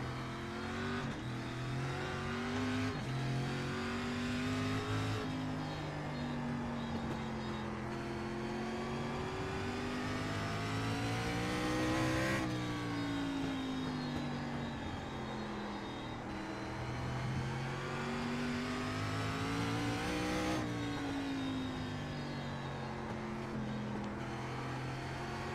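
SRX race car engine in iRacing pushed hard on a qualifying lap, a continuous loud roar rising and falling with repeated upshifts and brief lifts for corners, heard alone without talk.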